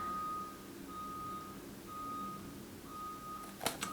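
Reversing beeps from a truck outside, a steady repeating tone in evenly spaced pulses, moderately distant and heard alone over a faint background hum, with a brief clatter near the end.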